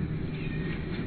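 Several cats meowing together, a steady close chorus of overlapping cries filling the short moment with no talk.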